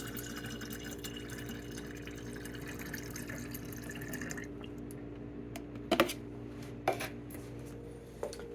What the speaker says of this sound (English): So we'll pour this in to my sprayer.